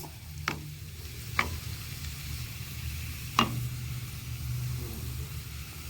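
Garlic frying in a pan for molokhia, giving a soft, steady sizzle with a few sharp ticks, fairly quiet and close, with no talking.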